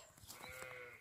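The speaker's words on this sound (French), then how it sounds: "ça c'est les moutons du voisin" Sheep on a neighbouring snow-covered farm bleat faintly and at a distance in a short wavering call, over quiet outdoor ambience.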